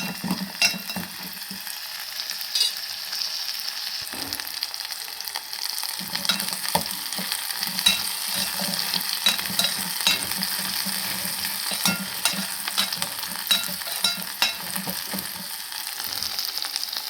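Small shallots, garlic and tamarind sautéing in a pan for a shallot chutney, a steady close sizzle with frequent stirring scrapes and clatter running the whole time, with no voices.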